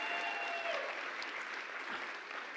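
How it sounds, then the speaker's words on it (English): An audience at a startup showcase gives a round of applause, a continuous wash of clapping at moderate distance with no talk over it. "Big round of applause for them."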